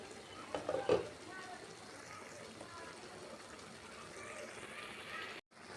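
Malabar spinach curry cooks under a lid in a pan, a quiet, steady bubbling simmer with a short burst of clatter near the start before the sound cuts off at the end.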